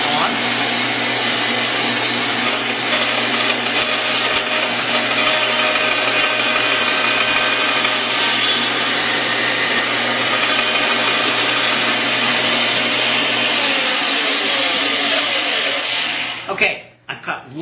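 A Shopsmith band saw runs steadily, its blade cutting wood for finger joints with a loud continuous whirring drone that holds unchanged for a long stretch before winding down and falling away near the end.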